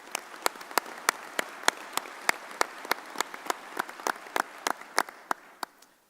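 Audience applause at a commission meeting, a sparse room of people clapping with distinct, sharp individual hand claps in a fairly regular rhythm that thins out toward the end.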